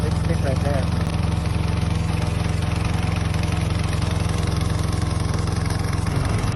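The VTLM800 remote control lawn mower's engine runs steadily and loudly throughout while its serrated cutter slices tough, dry grass on a slope. The drone is constant, and a voice speaks over it.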